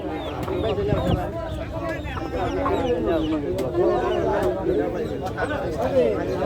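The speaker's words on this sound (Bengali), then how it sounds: "এগুলো কি দেশি মুরগি নাকি সোনালী মুরগি" Sonali chickens clucking at a busy market, many overlapping clucks and squawks close by, with people talking throughout.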